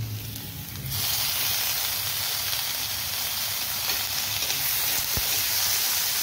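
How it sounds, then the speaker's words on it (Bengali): Ginger and garlic frying with onion and chili in hot oil, a steady close sizzle that jumps louder after the first second and stays continuous, no talk. "ভালো করে পেঁয়াজ লঙ্কার সাথে আমি আদা রসুনকে ভেজে নেব।"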